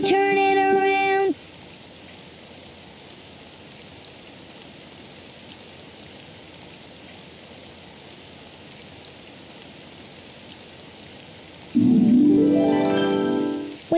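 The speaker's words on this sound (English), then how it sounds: "it's raining outside" Steady, soft rain patters outside in a children's cartoon scene, a quiet even hiss running between a short spoken line at the start and another voice at the end.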